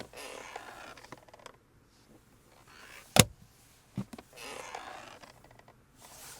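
Armrest lid in a Lexus LS400 luxury sedan creaking and squeaking as it opens, then snapping shut with a sharp, firm click, followed by a couple of softer knocks; close and fairly quiet, with no talk.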